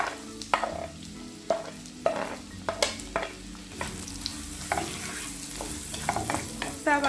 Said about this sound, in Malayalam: നമുക്ക് അരിഞ്ഞു വെച്ചിരിക്കുന്ന സവാള ചേർത്ത് കൊടുക്കാം